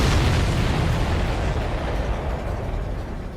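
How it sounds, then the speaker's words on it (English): A missile strikes an enemy supply ship in the Ace Combat 7 video game, a heavy roaring explosion with deep rumble that starts loud and slowly fades, heard alone. "Missile hit the supply ship dead on."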